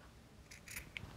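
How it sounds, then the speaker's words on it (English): Scissors trimming quilt fabric, a few short crisp snips clustered near the end, close and fairly quiet with no talking. "now, with the scissors, I'll just trim that up here"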